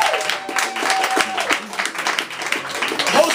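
An audience claps for photographer Jay Franco at a live spoken-word and beatbox event, with a steady burst of applause that stays moderately loud throughout.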